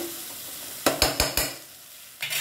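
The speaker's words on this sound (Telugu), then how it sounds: "బాయిల్ చేసిన శనగలు వేసుకోవాలి. వేసి బాగా కలుపుకొని" Boiled chickpeas stirred into a frying pan: a low sizzle underneath four sharp scraping clacks of a spoon against the pan, then one more after a pause.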